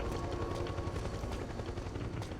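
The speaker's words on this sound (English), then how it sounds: "I don't like that I hear a helicopter." A helicopter approaches in the Metal Gear Solid 4 video game, its rotor chopping in a rapid steady rhythm, loud and continuous with no talk over it.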